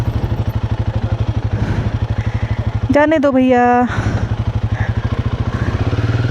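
A motorcycle engine thuds in a steady, close, rhythmic idle on a mountain road in Mustang, Nepal, and a voice speaks briefly over it midway.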